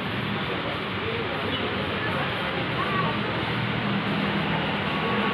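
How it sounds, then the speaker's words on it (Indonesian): KRL commuter train at Sudirman station in Jakarta, a steady broadband rumble and rolling hiss held at even loudness, with a voice talking over it. "Nah, ini ada KRL ini"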